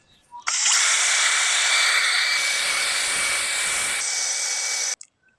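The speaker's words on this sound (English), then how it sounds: "need to hit the outside of these with a wire brush now because all that fire torched all the paint that was on them" Power wire brush scouring fire-scorched paint off the rear suspension control arms of a barn-find 1971 Toyota Celica, a loud, steady high-pitched whirring grind that starts abruptly, holds for about four and a half seconds, then cuts off, with no talking.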